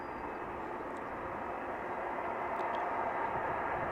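Atlas Air jet aircraft moving on the ground at Amsterdam Schiphol Airport, heard as a steady, distant, low-level engine roar that holds constant throughout with no voices.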